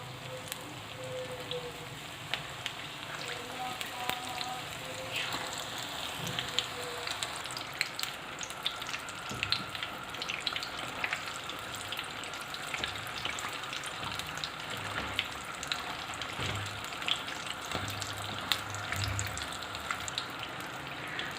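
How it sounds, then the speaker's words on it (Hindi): Chicken and vegetable spring rolls deep frying in hot oil make a soft, continuous crackling sizzle with faint popping, like light rain, steady for the whole stretch. "रोल सारे तैयार हो चुके हैं, अब इनको हम फ्राई करते हैं। ऑयल हमारा गर्म हो चुका है"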